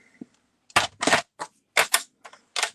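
A piece of card trimmed for a scrapbook page, heard as a handful of crisp, close slicing and snapping bursts separated by short pauses.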